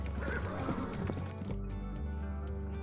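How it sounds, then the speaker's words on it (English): A dusty horse skids to a stop in a small-town market, with hoof clatter that gives way to a loud, drawn-out neigh carrying on to the end. "A messenger on a dusty horse skidded to a stop in the small town market."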